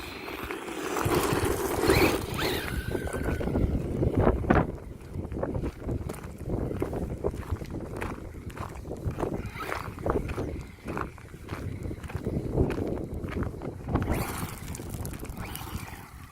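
An Absima AB3.4 RC car on its first dirt run, running on its original tyres, whirs and crunches over loose ground at close range, with bursts of motor whine and gritty scraping rising and falling throughout.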